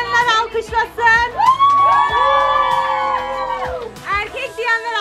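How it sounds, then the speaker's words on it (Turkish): Guests at a gender reveal party cheer and whoop together, children's excited shouts rising into a sustained collective yell, with lively voices before and after. "kız diyenler alkışlasın"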